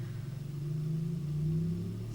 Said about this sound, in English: That's some motorcycle outside.